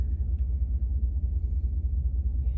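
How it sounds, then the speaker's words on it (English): A Ram 1500 pickup with its muffler deleted and a straight pipe running from the cats into the resonators gives off a steady, deep exhaust rumble at idle, low and continuous with no revving. "this truck, I just did a simpler muffler delete, so just a straight pipe from the cats into the resonators"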